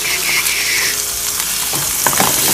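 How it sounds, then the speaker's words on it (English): Oily salmon fries loudly in a very hot pan. A dense, continuous sizzle and crackle sits up close, and occasional stirring scrapes cut through it, with no voices. "this salmon here is pretty oily anyway. So once we add that into that, the pan's pretty hot."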